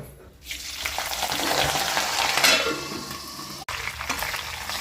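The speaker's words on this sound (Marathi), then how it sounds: "आता लसूण त्या कढीपत्ता टाकून घेऊ आपण तेलामध्ये।" Curry leaves and garlic hit hot oil for Kolhapuri bhadang chivda and burst into a loud, close sizzle that swells and then settles into steady frying. One sharp clink sounds near the end.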